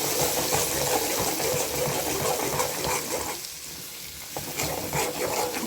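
A ground paste for pirandai pickle fries and sizzles in a pan while being stirred, a close, steady crackling hiss with scraping spoon strokes that briefly dips before building again.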